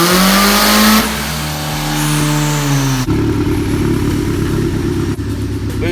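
Honda Civic engine running on a Hondata base setup and bouncing off boost cut, a loud close revving roar that drops abruptly, then a rough stuttering, popping note at high revs.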